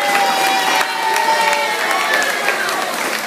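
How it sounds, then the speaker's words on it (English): A crowd claps and cheers loudly for the people who made a dress on the day of an event, a dense, steady burst of applause with scattered whoops and shouts, close and continuous. "Another big round of applause for these folks right here."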